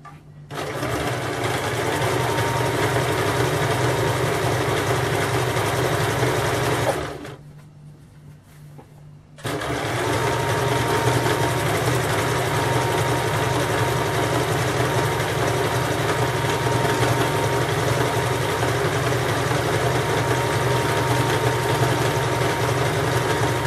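Sewing machine stitching along the edge of a kameez, a steady close whirring hum that stops for about two seconds partway through and then runs on steadily, with no talk.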